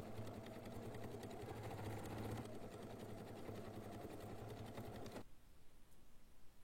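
A sewing machine stitches the bottom panel onto a large faux-leather shopper bag, running steadily and close for about five seconds before cutting off abruptly, leaving near silence.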